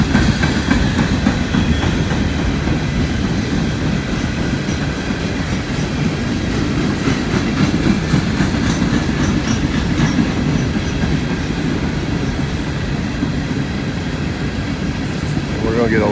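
A loaded coal train rolls past on the tracks at Thurmond, a loud, steady rumble with rhythmic clickety-clack from the wheels that continues without a break from start to finish.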